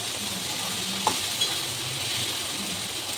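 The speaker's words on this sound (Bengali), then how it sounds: "একটু নাড়িয়ে নিলাম" Paneer butter masala sizzles steadily in a pan while it is stirred, with a couple of brief clinks of the spoon against the metal.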